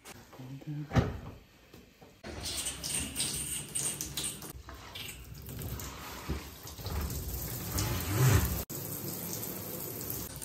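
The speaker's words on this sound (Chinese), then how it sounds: "现在我们就开水做一个测试" Water gushing from a newly installed bathtub faucet with separate hot and cold taps, a steady broadband rush starting a couple of seconds in, with a clunk of the fitting and someone talking over it.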